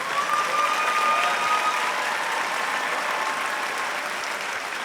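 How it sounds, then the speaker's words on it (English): Large crowd applauding graduates at a spring convocation ceremony, a dense, sustained roar of clapping from many hands, steady and fairly loud throughout. "let's give them a round of applause."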